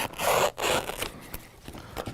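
Scissors cutting, two quick snipping strokes close to the mic, then fainter scraping and handling noises.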